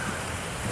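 Rain falls steadily during a run near East Coast Park in Singapore, a dense, even hiss lasting under a second with no voices.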